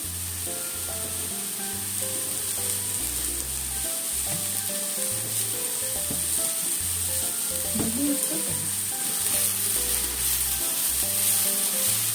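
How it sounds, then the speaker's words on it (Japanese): Shiitake mushrooms frying in a pan, a steady loud sizzle throughout with occasional stirring and scraping, with background music underneath and no talk. "開いて焼きましょうね。"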